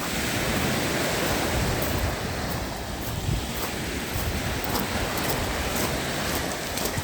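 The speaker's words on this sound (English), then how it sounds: "So this is all beach, I mean the Lake Ontario." Waves wash onto Woodbine Beach on Lake Ontario in Toronto in winter, a broad continuous surf roar mixed with wind noise, close and steady without pause.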